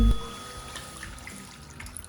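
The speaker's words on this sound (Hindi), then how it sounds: "इसके अंदर 1 गिलास पानी डालेंगे" A glass of water is poured over about a kilogram of bone-in raw chicken, a soft trickling splash near the start that fades into faint dribbling and quiet, with no talking.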